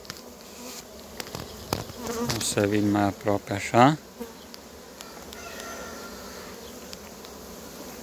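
Honeybees with red tergites buzzing at an open hive from a red-queen colony, a steady close drone running throughout with a brief stretch of voiced talk in the middle.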